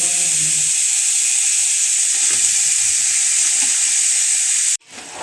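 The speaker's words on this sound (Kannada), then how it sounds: "ಚಿಕನ್ ಬೇಯಿಸ್ಬಿಡೋಣ." Chicken for a hotel-style chicken sukka sizzles steadily and loudly in a pan at close range, a continuous frying hiss that cuts off abruptly near the end, with no talking.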